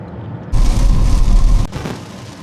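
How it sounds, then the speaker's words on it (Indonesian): Rain heard from inside the cabin of a 2026 Toyota bZ4X electric car surges into a loud, dense drumming patter with a low rumble for about a second, then drops away. "Sekarang mumpung lagi hujan,"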